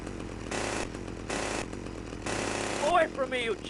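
A chainsaw attack in GTA Vice City. Three loud bursts of buzzing saw noise come in a steady rhythm over a constant game background hum, and a voice calls out near the end.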